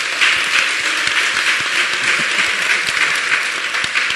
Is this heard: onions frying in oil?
no